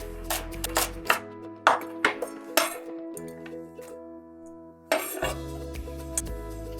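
A knife chops celery into bite-sized pieces on a cutting board, with a few sharp separate knocks and some clinks of kitchenware between them. Close and fairly quiet, with no talking.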